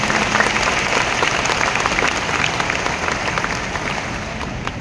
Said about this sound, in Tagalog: Kaya palakpakan po natin ang ating mga magulang.